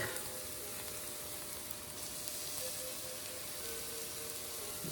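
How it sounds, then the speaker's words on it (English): Garlic, onions and jalapenos fry in a pan with a steady, even sizzle, fairly soft and unbroken from start to finish, with no voices. "The jalapenos are cooking. Now we're going to add our garlic."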